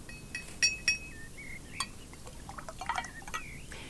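Liquid poured into a glass for a toast, with a few bright glassy clinks and trickling, rising pour tones, fairly quiet and close, no talking.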